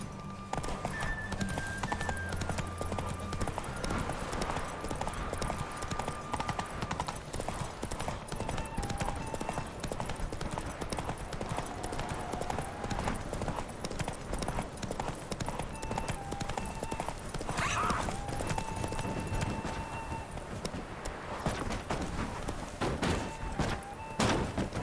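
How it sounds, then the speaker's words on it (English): The horse Roach galloping in The Witcher video game: a rapid, rhythmic clip-clop of hooves runs throughout, with occasional snorts, a whinny, game music tones and brief voices over the steady hoofbeats. "Come on, Roach. Take your mount to her limits."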